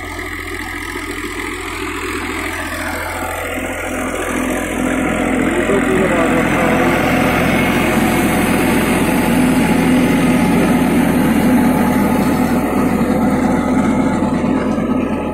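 A New Holland 3230 tractor engine runs steadily while driving a 7-foot rotavator, a continuous mechanical drone that grows slightly louder and holds constant, with someone talking over it.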